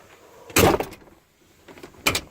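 Inside handle on a truck door pulled open, likely a 7.3L Powerstroke Ford, with a sharp mechanical clack followed by a second latch click about 1.5 seconds later, close and fairly loud in a quiet garage.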